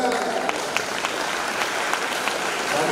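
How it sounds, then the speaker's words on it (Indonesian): A hall full of people at a graduation ceremony breaks into sustained applause, dense and even, with a few sharper claps standing out through a short burst of clapping. "Tepuk tangan."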